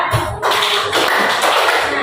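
Clapping in a classroom ice-breaking game, a dense burst of hand claps filling the room, loud and close, with children's voices mixed underneath rather than three clean separate claps.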